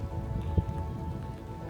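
Steady rain falls during a winter camping trip by Jeep, a continuous soft patter over the whole stretch with one brief louder knock near the middle and no talking.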